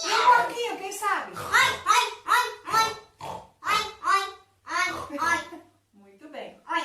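A small child imitates a pig's oinking in a series of short voiced grunts and snorts, clear and close, repeated in bursts with brief pauses between them.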